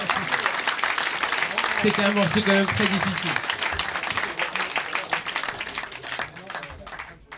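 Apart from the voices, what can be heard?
concert audience applause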